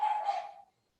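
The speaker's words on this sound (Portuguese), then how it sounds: "está ouvindo o barulho da minha cachorra latindo no fundo?" A pet dog gives a single short bark in the background that fades out quickly within a second, with no talking over it.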